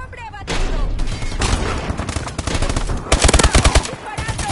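Call of Duty video game gunfire: dense, rapid automatic bursts and overlapping shots, loud and close, building to a sharp cluster of heavy rounds near the end.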